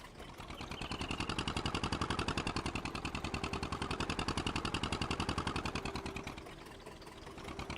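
An old, worn two-stroke-style engine on an Amazone Pantera sprayer idles in Farming Simulator 19, a fast, even, steady putter that swells slightly and then settles, alone throughout.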